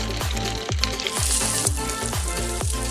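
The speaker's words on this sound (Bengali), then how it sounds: "পেঁয়াজগুলো একটু ভাজা ভাজা হয়ে গেছে, এখন ক্যাপসিকামের কুচি দিচ্ছি।" Onions and chopped capsicum sizzle steadily in a hot pan, with repeated scraping strokes of a spatula stirring them in a regular rhythm.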